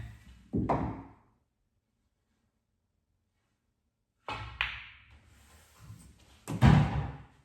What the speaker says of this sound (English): so now I can knock this one in down there